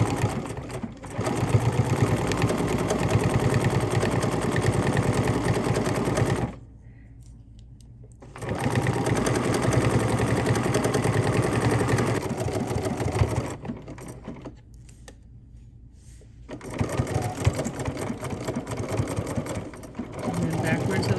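Sewing machine stitching a paper-pieced gingerbread house quilt block, running in steady bursts with two brief pauses, close and fairly loud, with a person talking over the motor hum.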